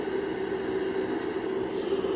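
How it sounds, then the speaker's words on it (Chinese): Continuous white noise resembling a running hair dryer, a steady droning hiss with a low hum, even in level throughout, used as a soothing sleep sound for babies. "也比较像吹风机的声音。"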